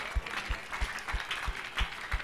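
Congregation clapping in steady unison at a church prayer service in Abuja, about seven sharp, evenly spaced claps over a couple of seconds, loud and close with a low thump on each beat.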